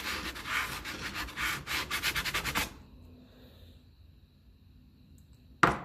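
Someone briefly rubs down a part from a 1954 Ferguson 20 TEF diesel tractor, giving about three seconds of brisk, rhythmic scrubbing strokes, then near silence with a faint hum and a sharp knock at the end.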